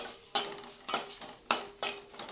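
Cumin seeds frying in a pan for jeera rice, heard as four sharp scraping stirs at a steady rhythm over a faint sizzle, close and fairly quiet with no voices.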